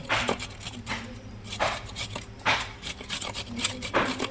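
Mango ginger being chopped for a village-style pickle, a knife striking a board in a series of quick, close, fairly regular cuts, about eight or nine distinct chops with brief gaps between them.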